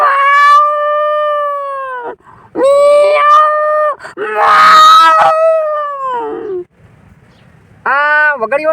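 A human voice imitates a wild tomcat with loud, close, drawn-out wailing yowls: four long rising-and-falling cries separated by brief pauses.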